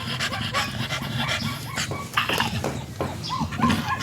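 An American bully dog pants rapidly and steadily close by, with a few soft whimpers mixed in over a noisy outdoor background and no speech.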